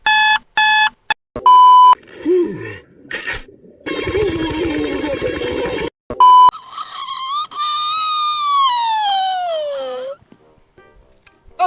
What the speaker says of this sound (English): We have to keep the question going until the timer goes off.